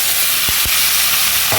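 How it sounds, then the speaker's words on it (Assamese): Washed masoor dal hits sizzling spices in a hot pan, a loud, close, steady hiss broken by two quick low thuds and a scrape of stirring. "এতিয়া মই এয়া ধুই থোৱা দালিখিনি, মচুৰ দালিখিনি মই ইয়াত দি দিছোঁ"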